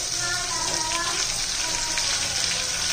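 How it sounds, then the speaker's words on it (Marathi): Ginger paste and garlic paste sauté in hot oil with a steady, close, dense sizzle and hiss that holds evenly throughout, with no talking over it. "एक चमचा आल्याची पेस्ट, एक चमचा लसूण पेस्ट चांगलं परतून घ्यायचंय"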